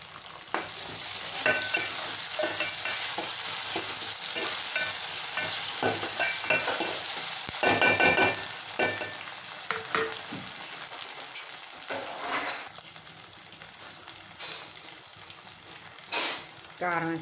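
Curry leaves crackle and fry in a pan of hot oil, an uneven sizzle with bursts of spluttering and stirring scrapes, close by, while a voice talks briefly at times.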